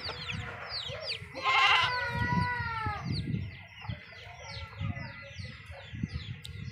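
A goat gives one wavering bleat, close by, with birds chirping and chickens clucking faintly around it.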